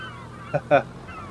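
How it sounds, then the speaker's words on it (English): Two short honking seagull squawks from a Farming Simulator 25 seagull mod, one brief and one slightly longer, ring out close together over a quiet, low background hum. "I installed the seagull mod."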